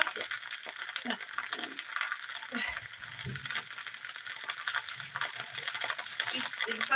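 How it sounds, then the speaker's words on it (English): Onions, potatoes and kielbasa fry in a pan over a fire, giving a faint, steady crackling sizzle with occasional scrapes and clinks of stirring, and soft voices in the background. "You hear the frying, I've got onions and taters and kielbasa in a pan."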